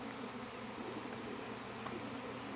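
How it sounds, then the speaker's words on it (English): Honey bees buzzing in swarm season, a steady dense hum of many insects close around, continuous and fairly even throughout with no talking. "You see all these bees?"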